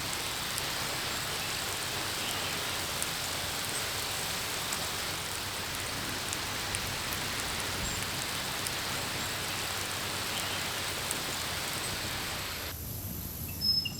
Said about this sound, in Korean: 비가 대지를 적십니다.